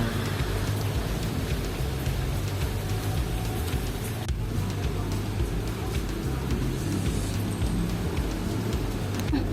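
Steady, dense rain pattering down continuously, heard from inside a vehicle with a low engine rumble underneath.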